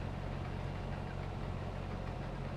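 Claas combine harvester engine in Farming Simulator 22, cutting soybeans, running at a steady low drone with a dense, constant rumble and no pauses.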